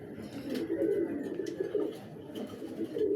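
Pigeons kept for sale, including a red magpie, coo in a steady low murmur that rises and falls continuously, with several birds overlapping and no talking.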